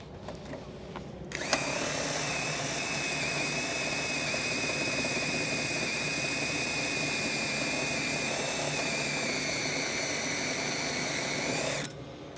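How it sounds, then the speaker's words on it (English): A chamfer drill bevels the cut end of a drainage pipe on a construction site, a steady high whirring that starts abruptly, holds evenly for about ten seconds, then cuts off. "all I'd have to do now is chamfer that using the chamfer drill"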